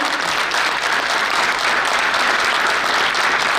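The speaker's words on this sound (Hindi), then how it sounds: "एक बार जोरदार तालियां उनके लिए" A theatre audience at a play gives loud, sustained applause, a thick continuous roar of many hands clapping throughout, with no voices rising above it.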